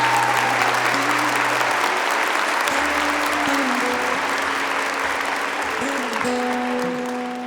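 An audience at a religious talk applauds steadily for several seconds, a thick, even roar of many hands clapping, while soft held musical tones sound underneath and slowly shift pitch.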